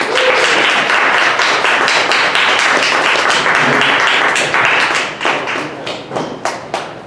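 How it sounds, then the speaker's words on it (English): A congregation at a sermon gives speaker In Sook Dimond a loud, full round of applause. It thins after about five seconds into scattered, fading claps. "let's give Sook another round of applause"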